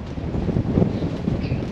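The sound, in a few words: strong wind gusting over sailing boat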